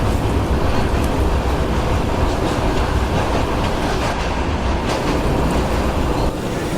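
Mangala Lakshadweep Express running at night past Mangalore, heard from inside the carriage as a loud, continuous rumble with rhythmic clickety-clack of wheels over rail joints.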